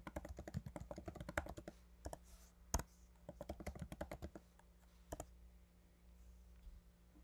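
Rapid clicking of typing on a computer keyboard, keystrokes coming in quick bursts with short pauses between them, close and fairly quiet with no voices.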